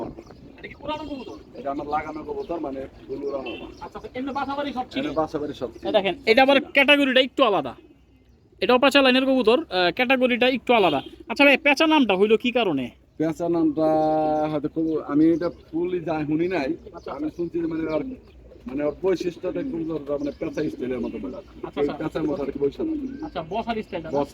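Pigeons coo repeatedly and close by, their throaty calls overlapping in a continuous chorus with brief pauses.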